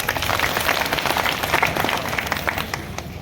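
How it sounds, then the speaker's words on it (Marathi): An audience at an election campaign rally in Avsari Khurd breaks into applause, a crackling wash of many hands clapping at once that stays fairly even and close throughout. "त्यांच्यासाठी एक टाळ्या वाजवा"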